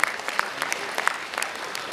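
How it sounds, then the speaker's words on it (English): Applause from a conference audience for faculty and students, a short burst of dense clapping with a few sharper individual claps standing out. "a big round of applause to all the faculty and all the students sitting over here"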